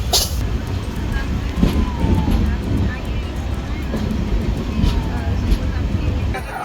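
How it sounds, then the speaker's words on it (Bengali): An Express local train stopping every few minutes rumbles along the tracks with a loud, continuous rolling noise and repeated clicks from the wheels, while voices talk over the rail sound. "এটা হচ্ছে এক্সপ্রেস নামক লোকাল ট্রেন যেটা দশ মিনিট পর পর থেমে যায়"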